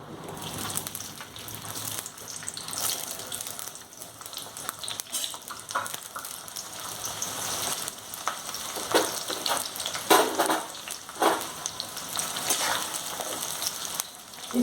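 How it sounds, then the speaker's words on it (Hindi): Onions frying in hot oil in a pan while cooking prawn and egg biryani, giving a steady crackling sizzle with occasional louder pops and stirring scrapes. "उसके बाद ये जो कांदा है फ्राई करके लूंगी।"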